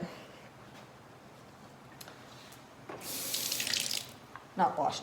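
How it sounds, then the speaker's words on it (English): Tap water runs into a sink to rinse freshly peeled produce for hash, a steady hiss that swells louder midway, with a brief clatter near the end. "just rinse it off with water to get all the dirt off of it"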